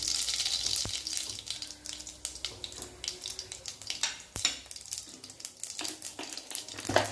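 Cumin and mustard seeds sizzle and crackle in hot oil in a pan, a close steady hiss with scattered pops and a couple of sharp clinks.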